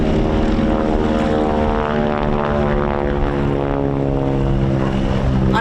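A propeller-driven advanced trainer aircraft at Old Buckenham airshow drones loudly and steadily nearby, its engine giving a thick, even tone with strong harmonics throughout.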